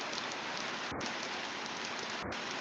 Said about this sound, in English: that rain is causing a hell of a lot of fucking noise